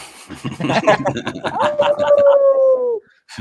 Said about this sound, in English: What kind of dog you got there, Mark, before we get off here?